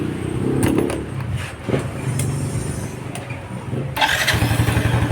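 A Yamaha Sight 110 motorcycle, just fitted with a new con-rod and side bearing, idles high with a steady close engine drone, clicks and mechanical knocks mixed in, and the idle lifts louder near the end.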